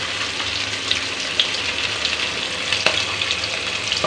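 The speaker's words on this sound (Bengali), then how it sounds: "মাছটা ভেজে নিচ্ছি" Hilsa fish frying lightly in a pan, a steady close sizzle and crackle with occasional small pops throughout, no one speaking.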